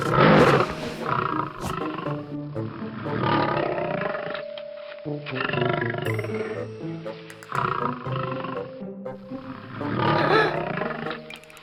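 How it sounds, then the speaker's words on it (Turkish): A loud lion-roar sound effect from a toy plays as a series of long, rumbling roars and growls, several bursts in succession that fill the whole stretch. "Bahçede iki tane aslan mı?"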